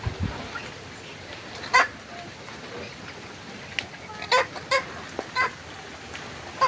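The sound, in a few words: chicken clucking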